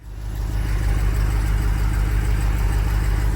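Beefy-sounding car engine running steadily at idle, a close, continuous low rumble with a constant hum, no talking over it.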